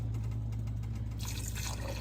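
Chicken broth poured into a pot, a steady liquid stream filling over a constant low hum, with the splash growing brighter and busier near the end, close but quiet, no talking.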